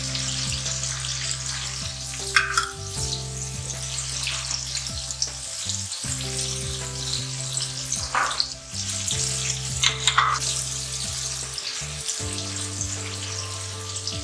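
Garlic paste, turmeric and coriander frying in a pan, with a continuous crackling sizzle broken by occasional stirring scrapes and brief clatters against the cookware.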